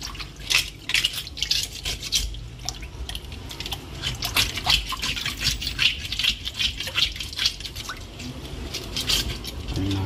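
A handheld fish scaler scrapes the scales off a whole fish, with rapid, repeated close-up scraping strokes in an irregular rhythm that continues throughout.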